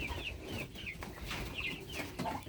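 Broiler chickens in a small farm coop cluck softly and repeatedly, several short calls overlapping at a modest distance without any talk.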